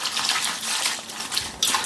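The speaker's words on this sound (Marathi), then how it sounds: "स्वच्छ अशी धुवून घेतली आणि" Tap water runs and splashes steadily as shevla, a wild monsoon vegetable, is rinsed clean by hand, a close continuous gush with small surges.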